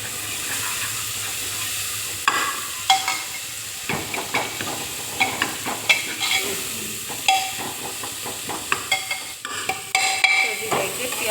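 Onions and tomatoes fry in a pan with a steady sizzle while a utensil stirs and scrapes, giving frequent clinking, scraping knocks close up and no talk.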